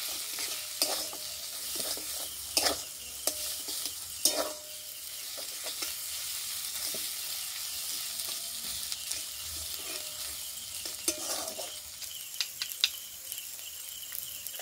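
Mashed potato filling for alur chop is sautéed in a pan, a continuous soft sizzle broken by repeated scraping and tapping of a spatula stirring the mixture.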